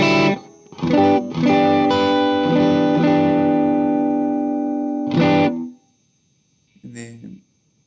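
An electric guitar switched to split single-coil mode plays a few ringing chords that sustain for several seconds, then a final short, bright stab after a pause.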